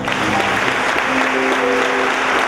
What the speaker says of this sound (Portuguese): Pela salva de palmas